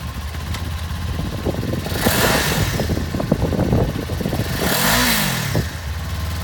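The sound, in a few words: 2018 Kawasaki Ninja 400 sport motorcycle engine revving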